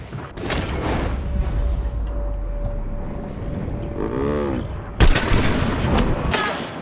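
Gunfire in the Hunt: Showdown video game, with a loud sharp shot near the end over a steady busy game soundscape with a low rumble.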